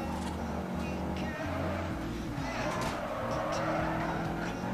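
Engine drone and tire squeal from a slow but grippy car in the Forza Horizon racing game, a steady, shifting motor tone with skidding as it corners, a voice talking faintly underneath.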